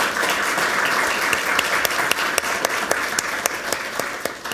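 Audience applause at a Santa Ana city council meeting, sustained clapping from a crowd with individual sharp claps standing out, loud and continuous across the clip.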